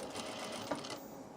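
A sewing machine stitching fabric while making a tool case, a short steady whir of rapid needle strokes, close and fairly quiet, with no talking.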